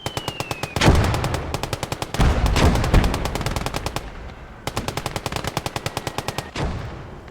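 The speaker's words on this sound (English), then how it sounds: "That's a nice little position for that machine gun covering the road." Machine gun firing in long, rapid, evenly spaced bursts in the war strategy video game Blood Red Snow, loud and close, with heavier blasts mixed in and no talk.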